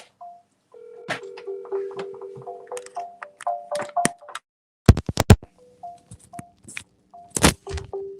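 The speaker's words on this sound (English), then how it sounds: "I'm gonna double dial." A telephone keypad dials a number again with short DTMF tones in quick runs, broken by sharp clicks and thumps of handling close by.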